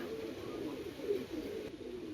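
Male pigeons cooing in a low, steady murmur, with soft overlapping coos running continuously at moderate distance and no talk.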